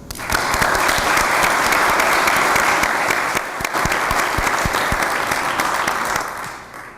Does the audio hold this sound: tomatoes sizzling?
no